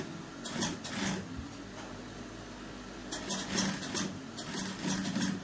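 A sewing machine topstitching a senator top, a low mechanical whir running steadily with faint rhythmic bursts, moderately quiet and close.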